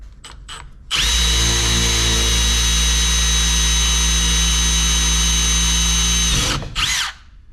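A Milwaukee M18 cordless drill on speed 3 whirs loudly and steadily for about five seconds, boring a hole, with short clicks before and a brief trailing whine after.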